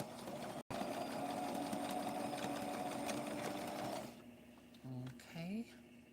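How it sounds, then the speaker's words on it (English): Sewing machine stitching a cloth doll dress runs in a steady continuous whir for about four seconds, then stops, leaving a few short bursts of motor start-stop hum. "let's start sewing"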